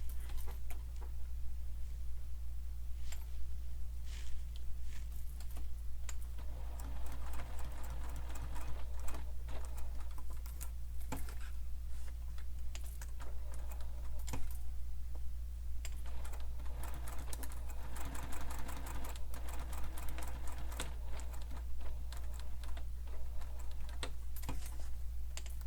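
A sewing machine stitches along the edge of a fabric sling pack in a steady run of rapid mechanical ticking, heard close up over a constant low hum. Nobody speaks.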